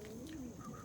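Tall pigeons with long foot muffs, a cock and a hen, give a soft, low coo, faint and brief against a steady background hum.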